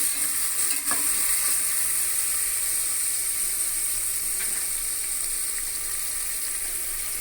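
Chopped onions frying steadily in a pan for vegetable pulao, a continuous bright sizzle with occasional stirring scrapes, close and even throughout with no voices.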